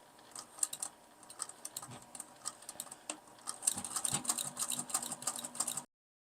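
A sewing machine back stitching upcycled jeans at a short stitch length, giving a quick, irregular rattling patter of needle strokes that runs steadily and then stops abruptly.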